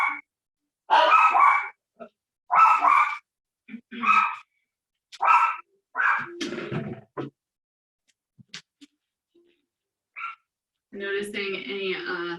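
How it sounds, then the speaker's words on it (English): A little dog barks in short, sharp, separate bursts, close and loud against an otherwise quiet room, with a brief voice near the end. "the amazing sound of my little dog barking"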